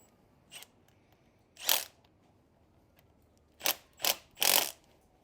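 Short bursts from an impact driver running a bolt into the positive battery terminal on a Predator 459cc pressure washer engine, with one brief tap, a longer burst, then three quick bursts close by.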